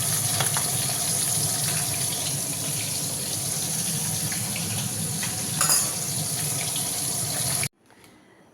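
Running tap water gushes steadily while a wok is washed in a kitchen sink, with a brief louder splash near the end before the flow cuts off abruptly.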